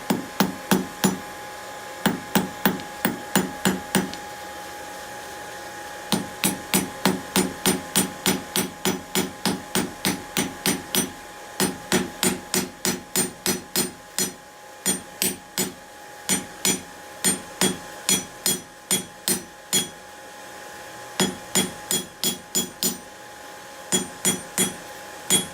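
Hammer on hot metal at an anvil, forging a rivet head during blacksmith work: sharp, ringing metallic strikes come in rapid bursts of about a dozen blows, with short pauses between bursts, close and loud, without speech.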